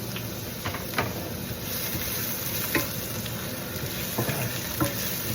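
Ginger frying in hot oil, sizzling steadily with scattered sharp clicks and scrapes as it is stirred in the pan; close and continuous.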